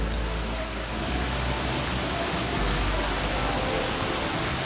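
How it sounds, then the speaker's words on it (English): A waterfall in the kids' splash area on the Liberty of the Seas cruise ship gives a steady, dense rush of falling water that stays loud and even throughout, with no talk. "they got a waterfall"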